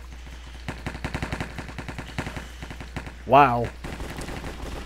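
A 50 cal gun firing in a Minecraft cops-and-robbers mini game: a rapid run of sharp, evenly spaced shots, then scattered further shots, with a brief exclaiming voice in the middle.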